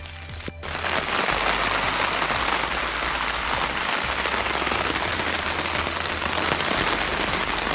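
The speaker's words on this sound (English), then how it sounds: "and now it's raining." Steady rain pours down, a dense continuous patter on a surface close by, with a low rumble underneath and no voices.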